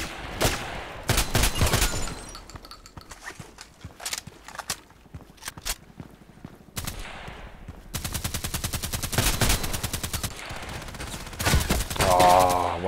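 Rapid bursts of shotgun blasts from a first-person shooter, loud and close, firing in clusters with short gaps and a dense volley of shots near the end, with a few footstep-like thumps between.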